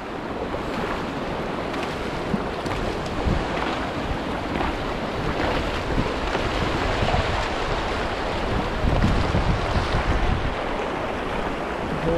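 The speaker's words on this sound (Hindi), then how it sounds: "घोड़े पे बैठ के पानी को क्रॉस कर रहा हूँ मैं।" Steady broadband water sloshing and splashing as a horse wades across Mahudand Lake in Kalam Valley, Swat, with wind noise on the microphone, continuous and fairly loud throughout, no talk.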